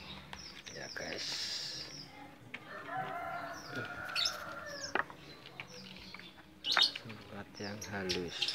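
Strawberry finches kept in a group give thin, high chirps and tweets scattered across the clip, mixed with a steady background hum.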